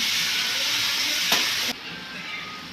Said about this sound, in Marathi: लसूण लालसर झाली आता टॅमॅटो टाकून घेऊया